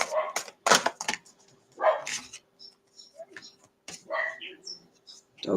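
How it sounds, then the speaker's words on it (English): Dogs barking outdoors, several sharp barks scattered irregularly at middle distance, some overlapping, with quiet gaps and faint ticking and bird sounds between. "Dogs barking everywhere."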